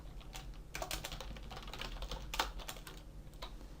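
Fingers type on a computer keyboard in quick, irregular bursts of soft clicks, close and fairly quiet, with no one speaking.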